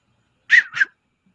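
A clear two-note whistle imitating a bird-like call, rising then falling twice in quick succession, heard alone in silence.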